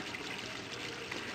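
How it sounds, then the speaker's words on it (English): Pumped water pouring into an aquaponics grow bed in a home tilapia breeding setup, a steady broadband trickle and splash that holds level for the whole moment, close and alone. "The water will be pumped up into the grow bed,"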